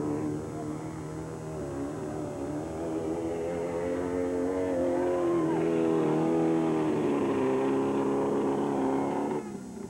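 Mud racing trucks spin their wheels in a 200-foot bog at a mud race in Indianapolis, their engines droning and revving steadily with a rising, sustained roar throughout, loud and fairly close.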